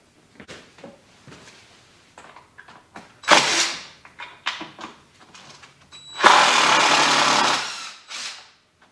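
An impact driver backs screws out of weathered wood decking on a small farm trailer. Two loud buzzing, rattling bursts, one short and one longer, stand out among scattered clicks and handling knocks.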